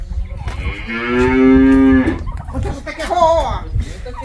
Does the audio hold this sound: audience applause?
no